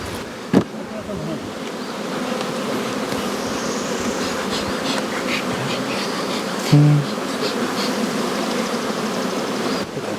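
Honeybees hum densely around a yard of hive colonies, a steady close buzzing swarm with occasional louder passes of single bees near the listener.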